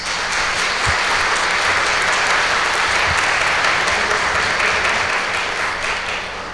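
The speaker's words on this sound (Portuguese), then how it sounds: "Vamos acolhê-lo com uma salva de palmas." A church congregation applauds during a Mass to welcome a newly appointed parish priest, with loud, sustained, even clapping from many people that carries on without a break.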